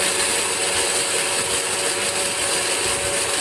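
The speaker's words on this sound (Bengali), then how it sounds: "তারপর মিক্সিতে সব কিছু দিয়ে দিলেন। সব কিছু এখন গ্রাইন্ড করে নেবেন।" A kitchen mixer grinder blends spices for mango pickle, a loud, steady, high-pitched whir that runs without a break and cuts off abruptly at the end.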